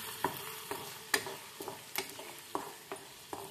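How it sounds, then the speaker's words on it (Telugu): Ginger garlic paste frying in hot oil for chicken pickle gives a soft sizzle, punctuated by regular sharp scrapes and taps of a stirring spoon against the pan. No one speaks. "ఇలా వేపాలి పచ్చివాసన పోయేంత వరకు"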